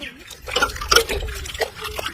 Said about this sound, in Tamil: இது என்ன பண்ணணும்னா தண்ணியில அலசணும்